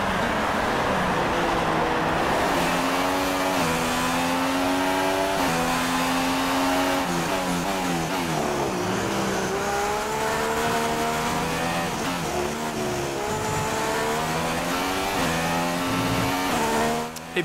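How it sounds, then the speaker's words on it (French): Formula 1 car engines in the game F1 2016 whine continuously on a rain-soaked track, pitch sweeping up and down through gear changes, loud and steady throughout with no talking. "vous entendez que Van Dorn est en train de se battre avec sa voiture sur cette piste"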